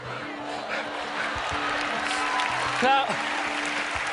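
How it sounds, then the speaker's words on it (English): A live television talent-show audience applauds a magician's act, a broad wash of clapping with a brief cheer near the end, steady and fairly loud beneath someone speaking over it. "Everyone's smiling and clapping except for Mel B."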